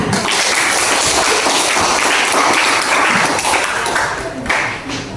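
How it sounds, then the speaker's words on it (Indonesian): A classroom audience applauds in a steady, dense wash of clapping that stays loud for about five seconds before easing slightly at the end. "Iya, tepuk tangan"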